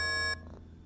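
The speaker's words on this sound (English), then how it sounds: "leave any feedback or queries after the beep" A single sustained electronic answering machine beep, loud and steady for about a third of a second before cutting off to faint background.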